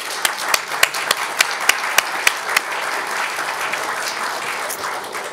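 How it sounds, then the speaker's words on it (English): Audience applause at a regional government awards ceremony, a dense steady wash of clapping with a few sharper, louder claps standing out near the start, carrying on evenly for several seconds. "Let's give them a round of applause."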